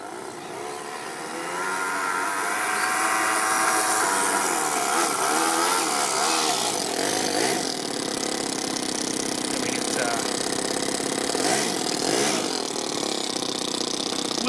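A 4-stroke overhead cam engine in a two-speed RC car revs hard and steadily while the wheels spin, a loud, continuous buzzing whine throughout with no talk over it.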